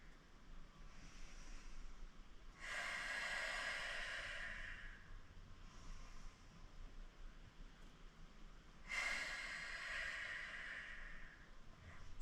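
Two long, breathy yoga breaths, each a broad airy rush lasting a couple of seconds, spaced apart and heard close and alone against quiet room hiss.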